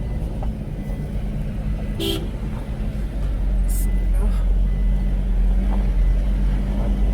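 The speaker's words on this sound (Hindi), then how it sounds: "आहिस्ता हॉर्न देके।" A vehicle horn sounds briefly twice amid steady engine rumble and road noise, with a voice talking faintly underneath.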